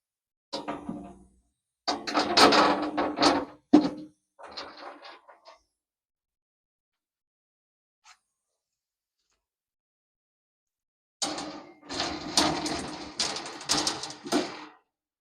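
Protective covers being fitted back onto a circular saw blade sharpening machine, with bursts of clattering, knocking and clicking metal handling in separate spells, first near the start and again near the end, with a quiet gap between.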